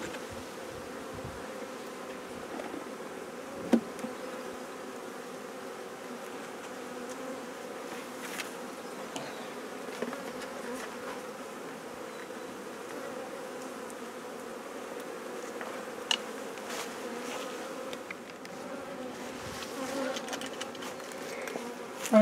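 Honeybees buzz steadily at an open hive during a queen introduction, a dense continuous drone with a few faint knocks and clicks scattered throughout.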